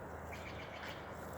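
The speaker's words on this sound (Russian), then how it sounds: "Птички даже поют сегодня." Small birds chirp faintly and intermittently at a campsite on Fallen Leaf Lake, soft distant calls over a constant broadband outdoor hiss, with no voices.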